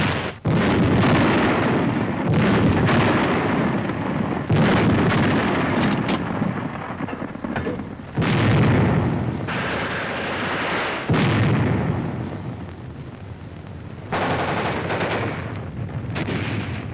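Heavy, rumbling blasts and sustained roaring booms fill WWII battle footage as an oil dump explodes and burns, with repeated loud bursts of artillery-like thunder from start to finish.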